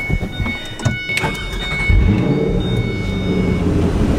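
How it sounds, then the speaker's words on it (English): A red 2005 Ford GT with white stripes starts up, and its engine swells from a brief whine into a loud, close, steady rumble that holds to the end. "This car sounds amazing."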